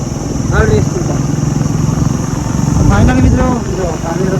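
Motorcycle engine running steadily at close range, a constant mid-pitched drone with slight rises in revving, heard under background voices.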